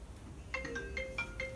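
A mobile phone ringtone plays a bright electronic melody of short repeated tones, fairly quiet and alone, while a bicycle frame is being straightened.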